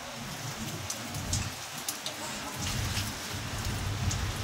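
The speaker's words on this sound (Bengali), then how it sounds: "আর এখানে বিশাল ঝড় বৃষ্টি শুরু হয়ে গেছে" Heavy rain pouring down during an evening storm, a dense, steady hiss of drops hitting surfaces with a few sharper splashes, fairly faint and continuous with no voices.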